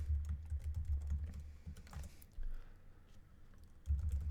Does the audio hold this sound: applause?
no